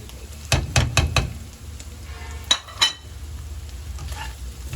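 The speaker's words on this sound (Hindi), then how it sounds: "अब इसको मसालों के साथ भूनेंगे, थोड़ा 1-2 मिनट भूनेंगे।" Minced meat and chana dal stirred in a pan with spices, several sharp spoon knocks against the pot, then softer scraping and a low sizzle underneath.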